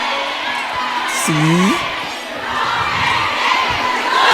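A large crowd at a Philippine political rally for Rodrigo and Sara Duterte roars and cheers continuously, with a few shouts rising above the mass of voices and people talking nearby.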